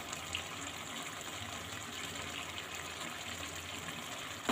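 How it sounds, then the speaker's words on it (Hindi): Water pours into a Bihari-style chicken curry (murga masala) cooking after the masala has been well fried, making a steady, even gushing splash that holds for several seconds with no talking. "अब हम इसमें पानी ऐड करेंगे।"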